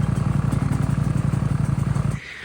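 A Ducati Panigale V4 motorcycle engine runs close and loud with a rapid, pulsing throb that cuts off abruptly near the end, leaving a quiet hiss.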